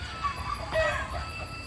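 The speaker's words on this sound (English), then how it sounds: "One of the biggest issues that we're having with chickens right now is that we have too many roosters" Chickens on a backyard flock with too many roosters cluck in a busy, continuous murmur, with a few brief higher calls standing out near the middle.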